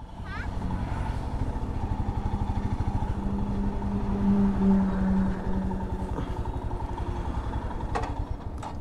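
Royal Enfield Himalayan BS6 motorcycle on an on-road ride, its engine thumping in a steady, rapid, close-up rhythm that holds fairly even throughout.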